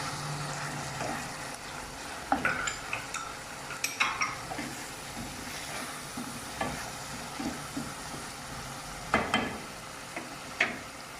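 Masala of green chili and tomato paste fries in a pan with a soft, steady sizzle while a spoon stirs it, leaving repeated scraping strokes and occasional clinks, close and moderately quiet.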